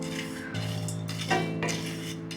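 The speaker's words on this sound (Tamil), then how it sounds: "ஒரு 2 கப் அளவுக்கு ஓட்ஸ் எடுத்து வறுத்துக்கிட போகிறோம்" About two cups of oats are dry-roasted in a pan while a utensil scrapes and clinks against the metal in steady stirring strokes, close and fairly quiet.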